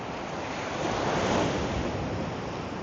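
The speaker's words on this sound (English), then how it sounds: "Some nice whitewash coming in over the reef though." Steady roar of whitewash rolling in over a reef, a dense wash of surf with wind noise on the mic, swelling slightly midway, on a cold morning.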